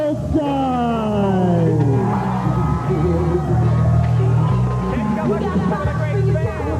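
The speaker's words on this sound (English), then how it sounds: "Cheering on Nurse Vanessa, I would assume." A wrestling arena crowd cheers and whoops continuously at a loud, steady level, with rising shouts and an announcer talking over the din.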